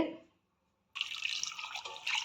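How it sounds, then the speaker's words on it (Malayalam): Water pours onto one kilogram of peeled, cut cassava: a steady, bright splashing stream starts abruptly after a short silence and runs on, with a short earlier sound before the gap. "കട്ട് ചെയ്ത് വെച്ച കപ്പയിലേക്ക് നമ്മൾ നല്ലപോലെ വെള്ളം ചേർത്ത് ഒഴിച്ചു കൊടുക്കണം"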